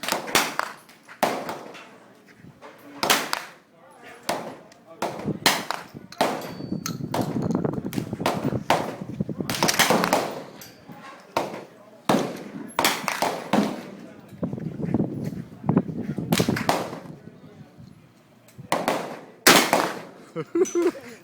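Shotgun blasts fired repeatedly outdoors, loud sharp reports spaced a few seconds apart with echoing decay, mixed with people talking between shots.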